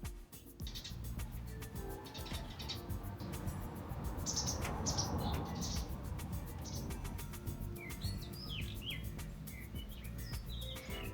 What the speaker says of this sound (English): we started hearing all the birds